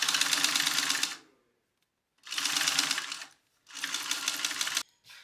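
A sewing machine basting stitches around a fabric sunglass case runs in three close, steady bursts of rapid whirring stitching, each about a second long with short pauses between.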